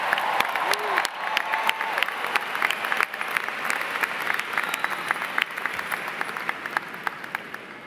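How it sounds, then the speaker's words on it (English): An audience at a university spring commencement ceremony applauds, scattered sharp claps layered over a broad crowd wash, with some cheering and faint voices mixed in. "Let's give them a big round of applause."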